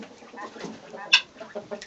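Black hens cluck softly in a barn, a few short, close murmuring clucks and one sharper squawk near the middle, fairly quiet throughout.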